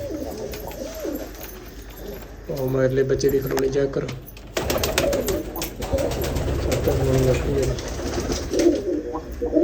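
A pair of Ferozpuri pigeons coo in low, rolling phrases at close range while someone talks over them, with some clinking and rustling in the background.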